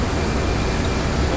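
Embraer E190 jet engines at derated takeoff thrust in a flight simulator, a steady broadband roar filling the whole clip without letup, loud and constant with no talk.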